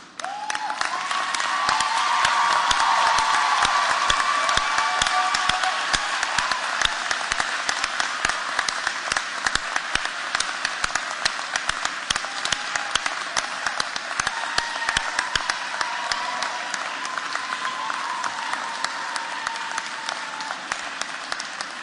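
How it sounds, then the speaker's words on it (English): Sustained loud applause from a commencement audience standing to thank family and supporters, dense clapping that swells early and then holds steady for over twenty seconds without talk. "turn to those who care about you, and give them some applause and thanks"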